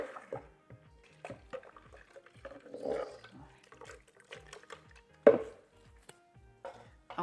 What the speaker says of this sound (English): I'm going to add a little water into our blender just to get the rest of the stuff out